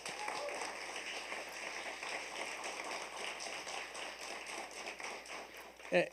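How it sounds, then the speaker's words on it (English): Applause at a youth awards ceremony, a sustained round of clapping from an audience heard from some distance, fairly soft and even, with a brief louder knock at the very end. "Let's give them another round of applause."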